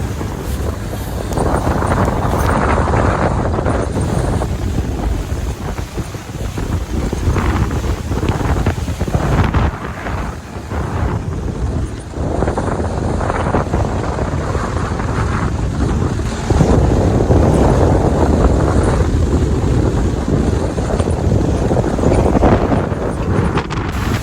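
A speedboat running flat out off Half Moon Beach in Saudi Arabia, with a steady loud engine roar, hull slapping on the water and heavy wind buffeting the microphone throughout.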